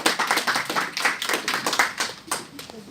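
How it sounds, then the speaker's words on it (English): A classroom of pupils claps for their mentors, uneven rhythmic hand claps close by that rise and fall in bursts over about three seconds, with voices mixed in. "Go ahead and give a round of applause."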